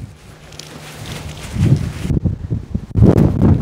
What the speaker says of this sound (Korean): 바람이 너무 심해서요. 제가 이게 설명할 때 바람 소리가 들어갈 수도 있습니다.